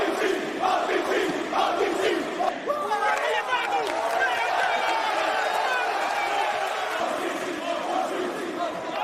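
A sellout wrestling arena crowd roars and cheers continuously at a WWE Roman Reigns versus Brock Lesnar main event, a dense, loud wall of voices with commentators talking over it.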